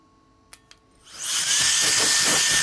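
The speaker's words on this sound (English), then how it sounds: "I have a little blower that I'm gonna grab to dust this off" A small air blower starts up to dust off a laser cutter, two faint clicks first, then a rising whine that settles into a steady, loud rushing hiss.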